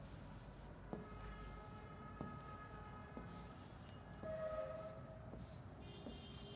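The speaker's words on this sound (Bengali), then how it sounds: "তাহলে আমরা একটু লিখি বোর্ডে আগে।" Chalk or marker taps and scratches on a classroom board, faint and intermittent, a few distinct strokes over a steady low background hum.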